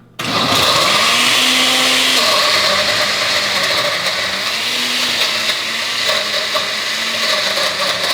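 A blender runs steadily throughout while making a smoothie with ice cubes, a loud continuous whirring motor that sometimes wavers in pitch as the contents churn, with no talking.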